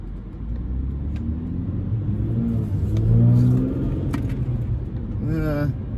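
A car with a throttle controller installed accelerates and cruises around a parking lot, its engine a steady close rumble that swells briefly as it speeds up, under someone talking inside the car.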